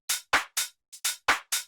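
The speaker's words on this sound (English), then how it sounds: "add some small hi-hats in between to give the beat a little bit more groove" Small, crisp electronic hi-hats in a tech house groove, seven short bright ticks in an uneven, swung pattern, close and dry with no other instruments.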